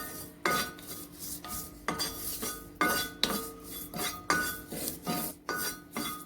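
Ginger and curry leaves roasting in a pan are stirred with a metal spoon, about a dozen rhythmic scraping clinks at a steady pace, close and clear with no talking.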